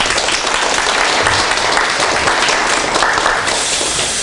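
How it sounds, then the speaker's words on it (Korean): Loud, sustained applause from a large church audience, a thick, even roar of clapping hands that stays strong throughout with a faint crowd murmur underneath. "응원의 박수를 좀 보내주시면 좋겠습니다"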